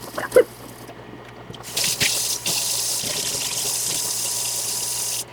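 Tap water runs steadily into a sink while coleus cutting roots are rinsed, starting after a brief knock and settling into a continuous close hiss and splash.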